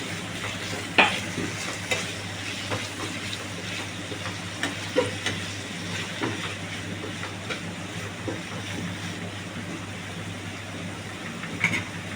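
Shrimp and vegetables fry and sizzle steadily in a pan while they are stirred, with occasional sharp clinks and scrapes of a utensil over a constant hissing bed of sound.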